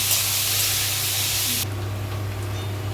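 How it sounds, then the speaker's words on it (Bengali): Water poured onto potatoes frying in a hot pan sets off a loud rushing hiss of steam that cuts down sharply partway, leaving a quieter steady sizzle. "এরপরে আমি জল দিয়ে দিলাম।"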